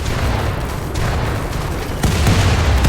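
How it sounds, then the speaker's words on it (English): Defense turrets in RimWorld open fire during a raid, a dense, continuous barrage of booming shots and bursts layered into a loud, rumbling wash that intensifies near the end. "Turning the turrets on."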